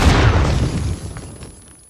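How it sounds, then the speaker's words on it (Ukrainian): A grenade detonating in PUBG: a single loud close blast with a deep rumbling tail that fades away over about two seconds. "Граната. Він мене підірвав."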